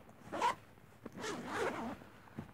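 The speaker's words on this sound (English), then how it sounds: "Is like a little zipper. Well, is a zipper. And so we can open that." A zipper on a dance bag being opened in a couple of quick pulls, close and clear with a short pause between strokes.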